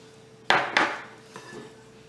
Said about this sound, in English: You want to carefully mix that.